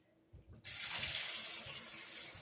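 Hot water running from a kitchen sink tap: after a brief quiet start, the faucet opens abruptly into a loud, steady rushing stream that continues to the end.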